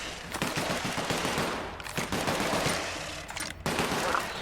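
Heavy gunfire from a big weapon in The Outer Worlds, loud repeated bursts of rapid shots close up with short breaks between volleys, no talking.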